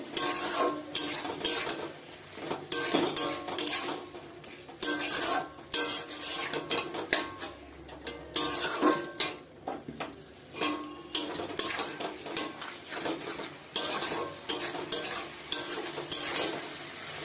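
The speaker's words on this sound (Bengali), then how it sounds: "আমি এইবারে মশলাটা কষিয়ে নিচ্ছি" Spice masala with ginger-garlic paste, tomato and a whole garlic bulb being sautéed for a meat curry, with a spoon scraping and clinking steadily against the pan over a soft sizzle, near and continuous, no talk.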